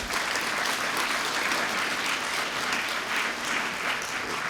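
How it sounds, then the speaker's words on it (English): Sustained, loud applause from an audience at a city's 2024 State of the City address in Cupertino, California, steady clapping filling the whole stretch without pause. "definitely deserved applause"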